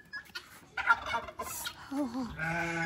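Pet chickens and other fowl cluck and gobble in a backyard animal enclosure, a close, busy run of warbling calls with a few sustained tonal cries toward the end.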